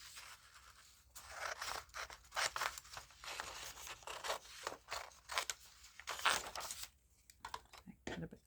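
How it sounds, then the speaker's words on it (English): Scissors snipping through printed paper to trim it down for a large hole punch, a series of close, crisp cuts and paper rustles in irregular bursts, fairly quiet. "Cut a bit closer so I can reach the punch in there."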